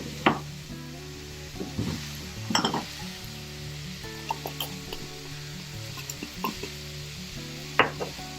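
A spoon stirs food seasoned with salt and turmeric in a pan, producing a steady sizzle under repeated scraping and clinking strokes against the metal, close up and with no talking.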